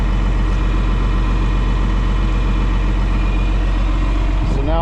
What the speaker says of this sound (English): It's PTO driven. Off the PTO of the tractor, you can turn the pump on or the flow on with this handle right here.